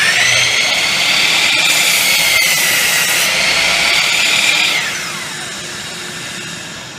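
A BFH miter saw cutting a bevel, its blade spinning as a loud, continuous high whine that holds steady for about five seconds and then winds down while still running.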